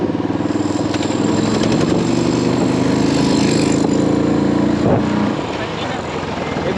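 A Honda Hness motorcycle hums steadily beneath heavy wind buffeting from an open road, loud and continuous throughout.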